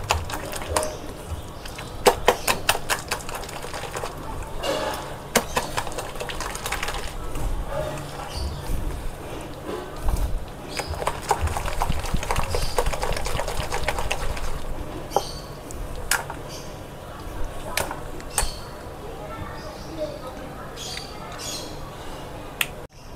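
Ground moong dal batter with green chilli and garlic being whisked vigorously by hand, giving a steady stream of rapid close clicking and slapping strokes at a fairly constant loudness, with no talking.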